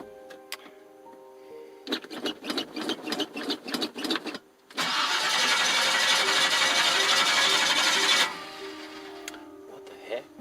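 An engine cranks over without firing, starter whirring in a rapid pulsing rhythm, then a louder steady spin for a few seconds before stopping, with faint ticking around it.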